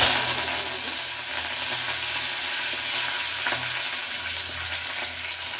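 Cumin and mustard seeds hiss and crackle in hot oil during tempering for a vegetable sambar, a steady close-up sizzle with a few sharper pops over the low kitchen background.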